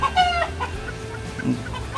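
Chickens cluck nearby on a farm in short, choppy bursts, with a couple of higher squawks mixed in against low background rumble.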